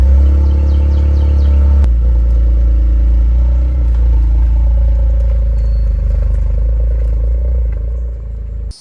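A 2023 Toyota GR Corolla hatchback driving, its loud, steady low engine rumble and road noise continuing throughout, with a brief clatter near the start and the sound easing slightly at the end.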